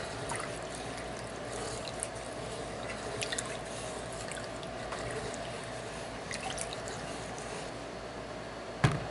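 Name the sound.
onion gravy coming up to a boil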